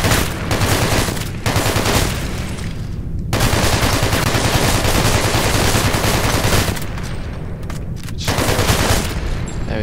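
Loud, sustained gunfire from the video game Hatred, dense rapid bursts like automatic weapon fire filling nearly the whole stretch, with a couple of brief pauses between volleys and no talking.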